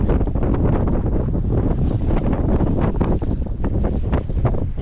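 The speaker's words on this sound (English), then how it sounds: "I can't stop the wind." Steady wind buffets a fishing boat during spring bass fishing, a loud continuous roar with gusty broadband rumble and no voices.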